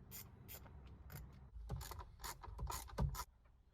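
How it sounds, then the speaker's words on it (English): Screws on the steering column of a Mitsubishi Pajero Montero being undone with a T30 Torx bit, giving close, quiet metallic clicks, rasps and ratcheting scrapes in short irregular bursts with no talking. "use a T30 Torx bit to undo the screws on the left and the right hand side of"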